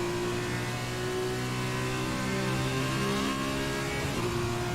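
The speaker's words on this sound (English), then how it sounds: "Revving it right to the limit of its rev range" A Formula 2 race car engine in a racing game revs hard toward its limiter, a loud, steady high-pitched whine with stacked harmonics holding throughout, shifting slightly near the end, with no voices.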